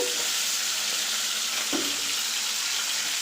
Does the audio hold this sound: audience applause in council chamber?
no